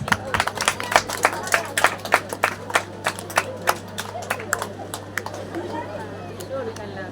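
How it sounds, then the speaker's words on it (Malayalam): Guests at a wedding clap together in a steady, sharp rhythm that thins out toward the end, with a low hum and some talk underneath. "എല്ലാരും ഒന്ന് കൈയടിക്കണേ."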